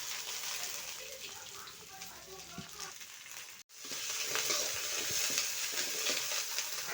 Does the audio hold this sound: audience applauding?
no